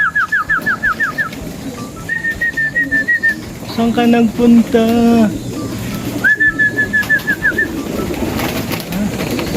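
Homing pigeons returning from their first training flight coo and trill in repeated high whistling bursts, with deeper throaty coos near the middle. Someone speaks over the birds.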